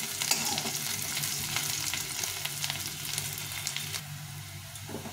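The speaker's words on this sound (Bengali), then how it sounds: "ভালো করে একটু ভেজে নিতে হবে, লাল লাল করে ভেজে নিতে হবে, যাতে জলটা না থাকে" Onions frying in a pan until reddish-brown and their moisture cooks off, giving a steady broadband sizzle with faint stirring, close and continuous, with no talk.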